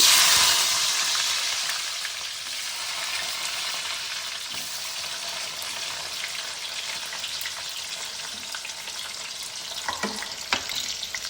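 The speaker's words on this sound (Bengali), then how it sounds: "এই তেলেই আমি করব রান্নাটা প্রথমে আমি ক্যাপসিকাম দিয়ে দেব" Capsicum frying in leftover oil after fish was fried, cooking chilli fish; a loud steady sizzle dominates throughout, with occasional stirring clinks near the end.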